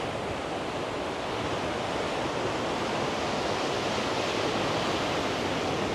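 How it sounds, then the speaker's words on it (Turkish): Indian Ocean surf crashing on a Sri Lankan shore, a steady loud broadband roar of breaking waves with wind, continuous throughout and with no voices. "Burası da çok dalgalı. Öyle sakin deniz fazla yok."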